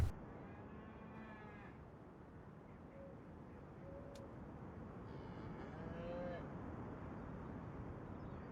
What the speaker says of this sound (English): You catch some cows in the background too.